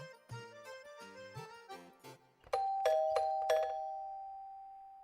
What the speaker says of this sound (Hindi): ये घंटी भी है ना, पूरा दिन बजती रहती है।